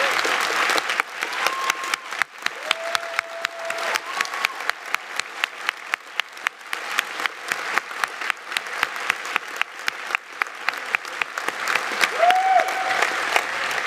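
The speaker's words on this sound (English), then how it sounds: "Now you applaud these people." A large audience at a closing ceremony applauds event volunteers, sustained dense clapping that carries on steadily for over ten seconds, with a few faint whistles rising above the crowd.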